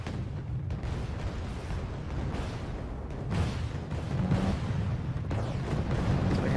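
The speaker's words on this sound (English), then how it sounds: "So we have rocket barrages coming in from these gunboats here." Gunboat rocket barrages pound the target in the naval war game Wargame, a continuous dense rumble of overlapping explosions and booms that swells slightly louder toward the end, with no voices over it.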